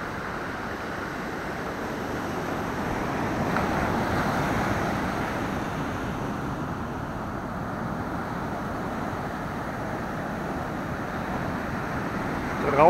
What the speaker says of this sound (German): wir haben richtig schöne Wellen. Richtig mit viel Wasser in der Luft.